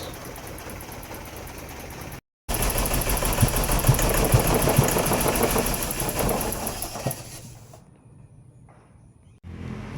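A BMW E30 with the M10 engine idling with a misfire and knocking, a steady rough, uneven chugging with a shaky vibrating pulse, heard close, dropping briefly to near silence twice before resuming.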